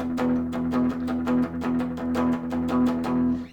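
Rockabilly electric guitar lead, picked with only downstrokes: a steady run of bright, evenly spaced plucked notes, close and fairly loud, with no voices.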